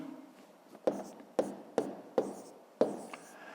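A pen writes numbers on paper during a fifth-grade maths exercise, with several short, crisp taps and scratches spaced across the clip, close and quiet.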